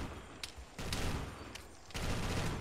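Short bursts of M60 machine-gun fire in a Vietnam War video game, two or three quick volleys, loud and close, with no talking.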